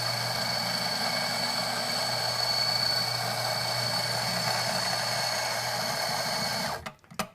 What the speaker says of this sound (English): I am gonna get something to purge this grinder, and usually I like to do about 6 seconds